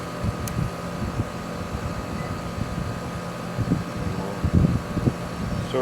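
A newly installed air conditioner compressor unit, the wrong size for the job, runs with a steady low mechanical drone and airy fan hum, with a few soft knocks and rustles nearby.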